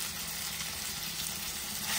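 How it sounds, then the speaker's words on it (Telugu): Green chillies, onion and tomato fry in a pan with a continuous, even hissing sizzle, close by and unbroken. "2 పచ్చిమిర్చి వేసుకొని వేయించుకోవాలి"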